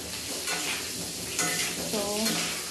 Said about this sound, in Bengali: আমি একটু আলু ভাজার টাইমে নুন দিয়ে দিলাম।